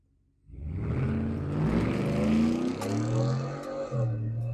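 Ford F-150 FP700 pickup truck with a 700-horsepower engine accelerating hard at full throttle, a loud engine roar that rises steadily in pitch and holds, with a gear change near the end, no talk over it.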